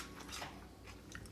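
Crunchy caramel popcorn is bitten and chewed close to the mic, with quiet, irregular crisp crunches spread through a short moment and no talking.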